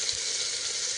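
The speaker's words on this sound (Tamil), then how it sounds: "மஞ்சத்தூளையும் உப்பையும் சேர்த்து நல்லா அவங்கள வணக்குன்னு வணக்கி எடுப்போம்." Vegetables sautéing with turmeric and salt in a hot pan, a steady bright sizzle of frying close up, continuous and fairly loud, with a faint stirring knock near the start.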